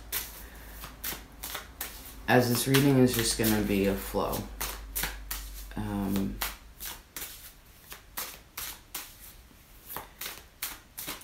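Tarot cards being shuffled by hand give rapid, crisp riffling bursts and soft slaps in a steady rhythm, close up, while someone talks over part of it.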